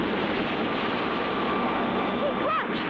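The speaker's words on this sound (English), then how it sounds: "There goes the black jet again!" A black jet aircraft flying past in an old cartoon, a dense continuous engine roar with a rising whine near the end, loud and steady throughout.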